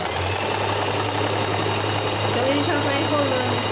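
A home sewing machine runs a zigzag stitch along the edge of fabric for a small Barbie dress, a steady close rapid mechanical whir, while someone talks over it.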